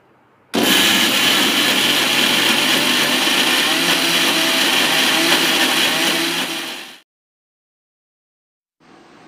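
A blender grinds coconut with sugar and a little water into a paste, running loud and steady for about six seconds before cutting off, then briefly restarting at the end.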